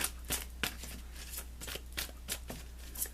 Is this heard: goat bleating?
no